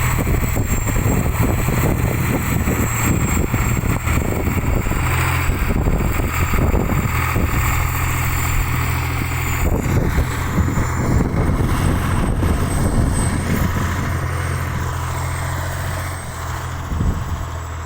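A T-150 tractor converted to a bulldozer runs steadily at close range, its diesel engine a loud continuous drone with a low throbbing hum and wind noise, piling organic fertilizer outdoors.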